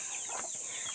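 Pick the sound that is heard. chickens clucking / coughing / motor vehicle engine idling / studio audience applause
chickens clucking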